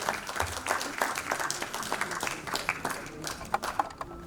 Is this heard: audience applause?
yes